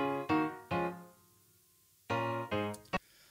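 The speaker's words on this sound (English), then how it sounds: "I recorded an upright piano with software instruments because my upright piano is out of tune." A software upright piano in a song recording plays a few separate chords and notes, near and clear, with pauses between them and no voices.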